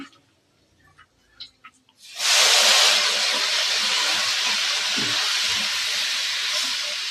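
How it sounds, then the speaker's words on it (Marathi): After about two seconds of near quiet with a few light knocks, fenugreek leaves hit hot oil in a pan and set off a loud, sudden hiss. The hiss settles into a dense, steady frying sizzle with faint stirring thumps. "मेथी चांगली परतून घ्यायची।"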